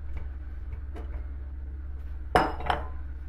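Yogurt soup being stirred in a pot, with a low steady hum under a few light spoon taps and two sharper metallic clinks close by.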